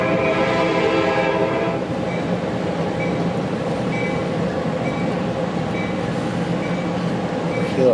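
A passenger train pulls into a station with a loud, continuous rumble of rolling cars and a few faint tonal squeals or horn-like notes, heard from on board with no talk.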